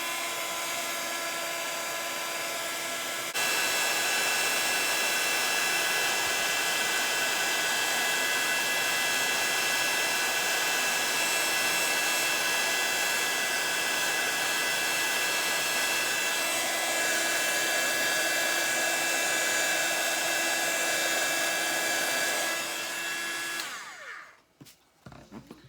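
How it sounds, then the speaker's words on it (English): A heat gun blowing hot air for heat embossing on a craft project switches on with a sudden loud, steady whirring roar that holds evenly for about twenty seconds, then cuts off and spins down. "we're going to heat emboss it"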